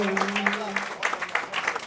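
An audience claps at a youth poetry gathering (kavi sammelan), a brief burst of scattered applause under a voice and a faint steady tone.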